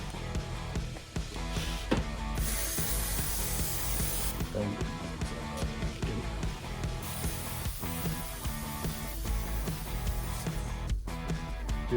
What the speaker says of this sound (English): Now we are going to spray the tire foam, and just like before, go in a circle.